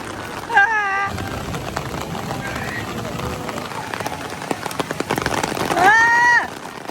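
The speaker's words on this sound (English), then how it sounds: "It's no longer just pretty rain. It is an onslaught." Heavy rain pours down at Universal's Islands of Adventure theme park near Hagrid's ride, a dense steady hiss of falling water with a person's startled exclamations breaking through at the start and end.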